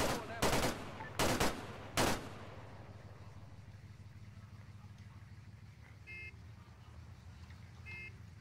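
Gunfire in the ARMA 3 video game: three sharp, loud shots in quick succession at the start, followed by a low steady background rumble with faint distant beeps.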